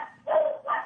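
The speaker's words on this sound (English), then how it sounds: "it's the dogs responding every time there's a freaking doorbell" Two dogs bark at a doorbell, two short close bursts in quick succession, loud and sharp against a quiet room.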